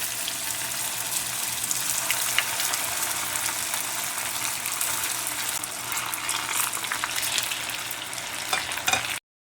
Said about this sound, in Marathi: आपण आता एक एक मेदू वडे याच्यात सोडायचे तेल गरम असतानाच घालायचं आहे